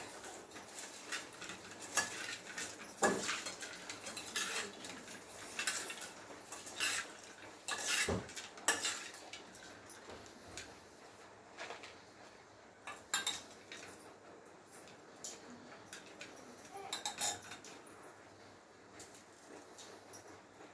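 Puffed rice being tossed with chutney and nylon sev in a bowl, with irregular crunchy rustling and spoon clinks against the bowl, some sharp scrapes standing out, close and without talk.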